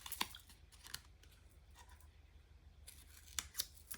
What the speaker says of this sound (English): I'm going to freehand cut those just with my scissors